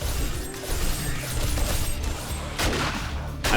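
Rapid-fire SMG gunfire in 7 Days To Die, a dense, loud burst of shots running almost continuously with sharper cracks near the end, no talk over it.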